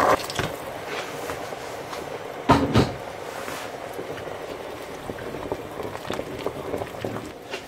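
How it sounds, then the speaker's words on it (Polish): Warm water poured into a pot of fried vegetables for Brussels sprout soup, a continuous gurgling splash with a brief louder sizzle, heard close with no talk. "Wszystko jak już jest tak obsmażone, zalewam wodą ciepłą,"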